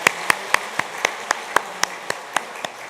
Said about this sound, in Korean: 다시 한번 박수 한번 해주시기 바랍니다.